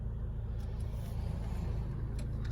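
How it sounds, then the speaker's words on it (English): Cars on Tattenhoe Lane approach and pass during a reverse parking manoeuvre on the right, a steady low road rumble heard from inside a vehicle, with no talk. "we've got a couple of cars coming towards us"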